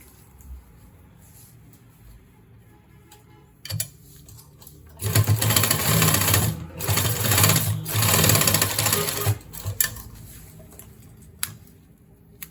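Sewing machine stitching a trouser belt, running in two long bursts of rapid, steady stitching with a short pause between, close and loud, after a brief quiet start.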